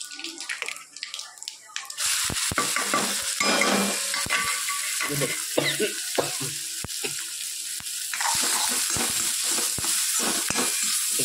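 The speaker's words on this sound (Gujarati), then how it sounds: "ફરી તેલમાં આપણે ખાલી મસાલો શેકવાનો છે એટલે વધુ પડતું તેલ આપણે નાખવાનું નથી" Masala spices roasting in a little oil, a steady hiss of sizzling with repeated stirring scrapes and clinks of a spoon against the pan, fairly close and continuous after a quieter start.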